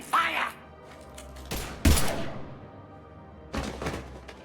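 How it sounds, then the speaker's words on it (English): Gunfire in the sci-fi video game Mass Effect 3, with several separate heavy shots and thuds spaced irregularly and fairly close. A voice is heard at the start. "Now open fire!"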